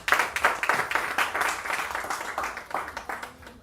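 An audience at a child online protection launch event claps for itself, a group of hands applauding in uneven, separate bursts that rise and fall, moderately near, with no talking over it.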